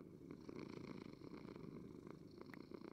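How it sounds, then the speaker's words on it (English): A pet cat purrs steadily on a bed in the Minecraft video game, its soft, continuous rumble filling the clip with a few faint higher blips scattered over it, no voices present. "the cat actually gets on the bed with you"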